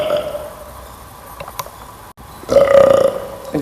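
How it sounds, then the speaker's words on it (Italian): A person lets out a loud, drawn-out burp inside an abandoned military barracks, coming after a quieter stretch with a faint earlier burp-like sound and a brief dropout. "che sei tu che stai ruttando, non io"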